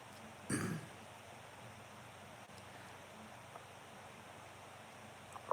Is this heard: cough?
yes